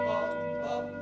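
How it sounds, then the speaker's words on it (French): Large bells in one of the oldest French bell foundries still operating ring with a bright, sustained metallic tone, loud and close. "C'est parti pour une visite rythmée au son des cloches dans l'une des plus vieilles fonderies encore en activité."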